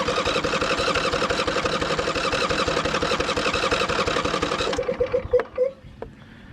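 A John Deere riding mower engine runs steadily with a fast, even chugging idle for several seconds, then cuts out, leaving a few clanks and knocks close by.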